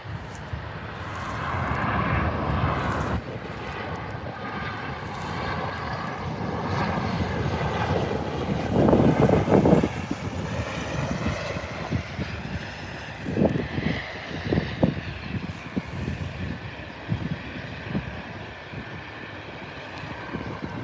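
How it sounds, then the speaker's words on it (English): A Virgin aircraft at Adelaide Airport roars as it passes, a loud sustained jet engine rumble with a shifting whine, heard from nearby amid wind and light rustling. "Okay, this is what it's waiting for, this Virgin aircraft."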